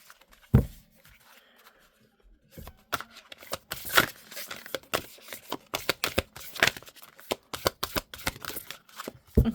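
A Healing Waters Oracle card deck is shuffled up close in irregular bursts of crisp riffling and slapping, quiet at first and then busier and denser, with no talking.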